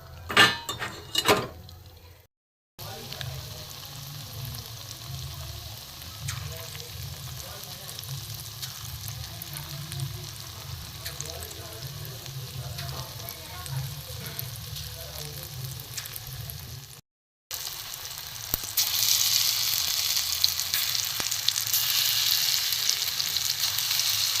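Small lentil dumplings of ash gourd frying in hot oil, a continuous close sizzle and bubbling with brief pauses and occasional clinks of a utensil against the pan, no speech.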